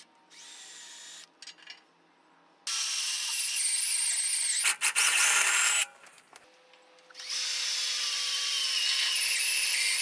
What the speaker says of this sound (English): I'm just going to come in with, I think, a step bit and just drill a hole right through here and through here